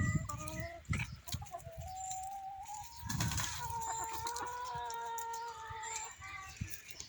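Several hens, not laying eggs, cluck and warble nearby in a loose, continuous chorus, with drawn-out calls and occasional rustling thumps.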